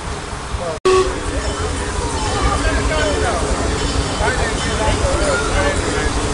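A train rumbles steadily nearby at Walt Disney's Barn while people talk over the noise.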